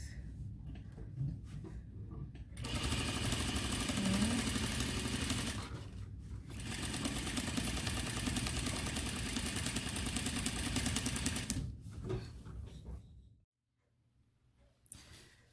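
A sewing machine stitches horsehair braid onto a baby dress for 3–6 months in two long runs of buzzing whir, with short pauses between and a quiet stop at the end, close by.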